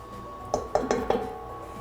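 Room temperature butter going into a stand mixer bowl: three or four quick, bright clinks and knocks against the bowl in close succession over a steady low hum.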